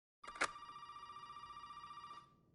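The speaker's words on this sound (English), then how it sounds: "the phone's been ringing all this" A telephone rings in the horror video game Resident Evil 7, a single clear electronic bell trill lasting about two seconds over quiet room tone, with a brief click at its start.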